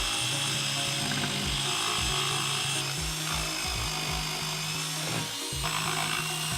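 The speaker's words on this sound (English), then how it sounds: "I can trim up the rest of it with a jigsaw" A jigsaw cuts through a rough wooden sword blank for a handle, its motor buzzing in repeated short bursts with steady rasping saw noise throughout, close and fairly loud.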